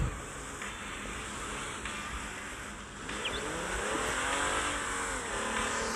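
A car engine revs in the video game OTR, a steady loud drone that climbs in pitch and keeps pushing hard throughout, with no talking.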